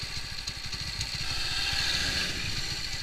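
A motorcycle engine idles steadily while its carburettor is tuned down toward the lowest idle, a close, continuous low rumble with a fine rapid pulsing and no talk over it.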